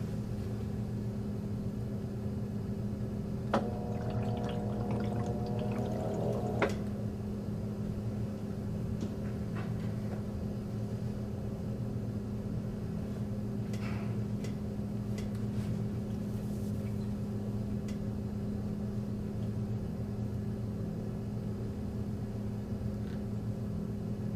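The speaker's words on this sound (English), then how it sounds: "The washer is determining if there is a potential out-of-balance load through a series of spins of the dry load." A Whirlpool high efficiency top load washer spins a dry load, giving a steady low motor hum and rumble with a brief whine in the middle and faint clicks, continuous and close.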